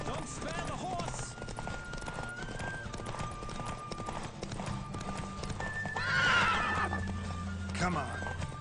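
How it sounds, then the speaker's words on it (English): A galloping horse in a horse race in the video game The Witcher 3: Wild Hunt, with rapid rhythmic hoofbeats and a whinny, while voices talk over the running. "Don't spare the horse!"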